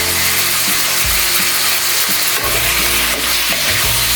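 Marinated meat for adobo frying in a pan until browned, a loud dense continuous sizzle with stirring scrapes and knocks throughout, no voices.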